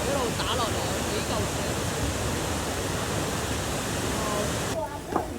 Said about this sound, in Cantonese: 龍騰瀑布從上面嘅圓渠一路打落嚟